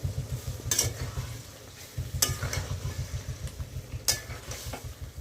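Marinated chicken curry with onion paste and water is stirred in a pan, with a low bubbling sizzle throughout and several sharp utensil scrapes against the pan, close and fairly steady.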